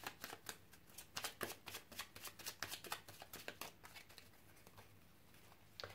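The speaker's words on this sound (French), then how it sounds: "On va poser les cartes." Tarot cards are laid out and handled in a quiet room, a rapid run of crisp papery snaps and flicks, close and fairly soft, thinning out toward the end with one last flick.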